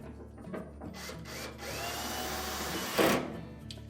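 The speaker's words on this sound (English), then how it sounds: "we'll put the 2 machine screws in through the housing below the lint filter" A screwdriver driving two machine screws into the housing below the lint filter of an LG dryer during a drive motor replacement, a close whirring hum that rises and then ends in a short loud burst.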